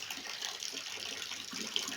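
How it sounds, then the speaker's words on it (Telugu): Rainwater pours steadily off a rooftop during heavy rain, a continuous, even rushing and splashing of water that stays fairly close and moderately loud without any break. "బంగ్లా పై నుంచి వాటర్ వస్తున్నాయి."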